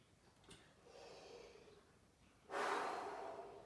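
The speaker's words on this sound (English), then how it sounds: "Now we're gonna open everything up and do 10 brass breaths." Deep breathing exercise in a tuba class: a soft inhale rising into a sudden, loud, sustained breath that lingers, close to the microphone with no talking.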